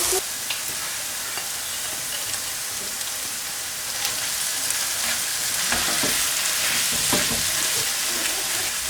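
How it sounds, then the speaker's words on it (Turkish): Tomato paste with well-browned onions sizzles and fries steadily in a pot, with a spoon scraping and stirring now and then, up close and with no voices. "Salçamız da kavruldu bir güzelce."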